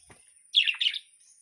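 A short burst of high, thin chirps from fledgling birds learning to fly, two quick clusters close together, then quiet.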